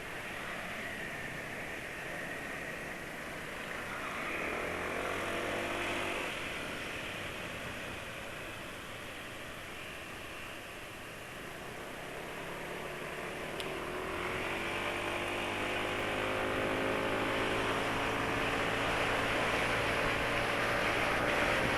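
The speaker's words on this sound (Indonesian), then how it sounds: "Suara mesin yang paling halus itu biasanya waktu RPM menengah." A motorcycle engine running at mid RPM, a steady droning hum with a slight rise and fall in pitch, heard alone and fairly faint.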